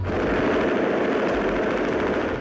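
Rifle fire from an AK-47 rattles in an old recording of a shooter in Rocinha, Rio de Janeiro. A rapid, dense burst of shots runs continuously throughout, harsh and distorted with no gaps.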